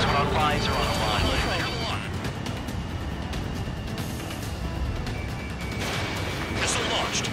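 Missiles launch and explosions rumble in Ace Combat 7 aerial combat over a pipeline mission, with steady booming and crashing under continual radio voices.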